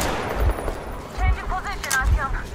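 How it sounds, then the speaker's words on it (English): Gunfire in the video game Metro Exodus, with three heavy low thuds spaced under a steady background while whistling, wavering tones and a voice sound in the mix. "Where am I getting shot from?"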